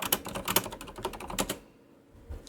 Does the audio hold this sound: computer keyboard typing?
yes